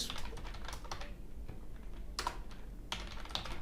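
Code is typed on a computer keyboard in quick bursts of close clicking keystrokes, broken by short pauses and a few sharper key taps.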